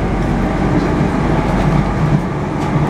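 An MF 77 train on Paris Métro line 13 speeds through the tunnel with a loud, steady rumbling roar and rolling wheel noise, heard close from inside the carriage.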